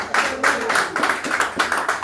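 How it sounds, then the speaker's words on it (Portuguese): A small group at a cell worship meeting clapping for the Lord in an even, rhythmic beat, close and loud, with voices mixed in. "Você pode aplaudir ao Senhor nessa noite?"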